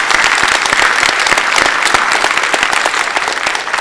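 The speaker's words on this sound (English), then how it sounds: "A round of applause, please, for these folks." Audience applauding in a large conference hall at the IETF 104 plenary, dense and steady clapping that stays loud throughout with no voices over it.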